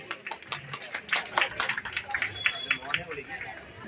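An audience claps at a Malayali Welfare Association ceremony honouring couples married 25 years. The applause is a moderate patter of hand claps with voices talking over it throughout.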